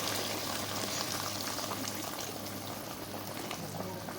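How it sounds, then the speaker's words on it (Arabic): Water added to a pot of meat already browning with onion, ghee and spices for a green bean stew, giving a steady close bubbling, hissing wash that runs evenly throughout with no voice over it. "هيك أنا أضفت المية، بغمر فيها اللحمة"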